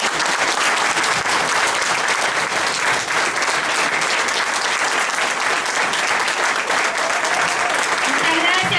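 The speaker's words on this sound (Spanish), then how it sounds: "Fuerte ese aplauso para Lidia." Dense, sustained applause from an audience fills the hall for a speaker named Lidia, loud and even from start to finish without a break.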